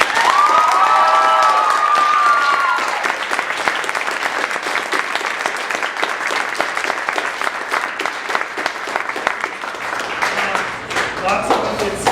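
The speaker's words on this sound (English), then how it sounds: "Give them a round of applause." Theatre audience applauding the costume crew at a curtain call for a 2018 production of The Tempest: loud, sustained clapping from a full house with some cheering and a whistle early on, a voice rising over it near the end.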